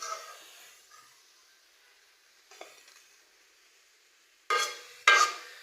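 Sliced onions frying in oil for Hilsa pulao give a close sizzle that fades over a few seconds, then two loud, sharp bursts of hiss and scraping as the pan is stirred.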